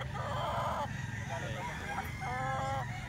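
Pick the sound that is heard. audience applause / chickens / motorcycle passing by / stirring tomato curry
chickens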